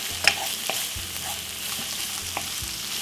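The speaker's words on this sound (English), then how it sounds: "So saute this off for about 1 and 2 to 3 minutes on a medium sized heat" Ingredients for an old-school Jamaican breakfast sauté in a pan over medium heat, giving a steady, close sizzle with a few light scrapes of stirring.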